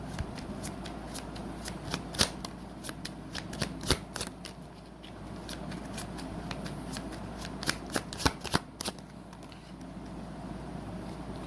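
Tarot cards being shuffled by hand, a continuous papery riffle with many sharp snapping flicks scattered throughout, close and fairly loud, with no one speaking.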